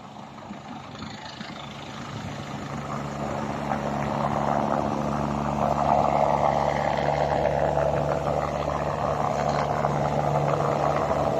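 Helicopter passing overhead at a beach, a low rotor-and-engine drone that swells gradually and stays loud and steady, with no talk.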